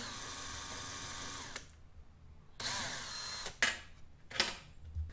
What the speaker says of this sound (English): So I'm just going to pre-drill right in the middle so that I don't have to worry about that